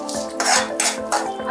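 Dry desiccated coconut roasting in a pan for a restaurant-style Veg Kolhapuri masala, stirred with a metal spoon that scrapes and clinks against the pan in short repeated strokes, close and fairly loud.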